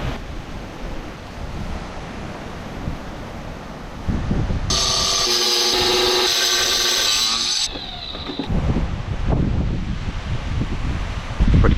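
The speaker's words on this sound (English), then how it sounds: "This crazy wind, 50 miles an hour." Strong wind at about 50 miles an hour buffets the microphone outdoors at a cottage homestead during cutting work. A loud, continuous roar rises and falls, with a bright whining tool-like burst in the middle.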